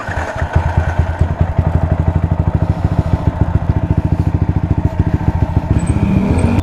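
A freshly built motorcycle's engine idles close by after a cold start, with a steady, rapid chugging thump, running loud and even without any talk.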